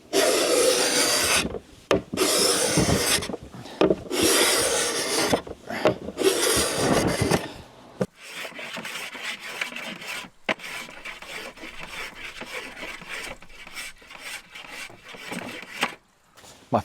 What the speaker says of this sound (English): taking off old finish with a cabinet scraper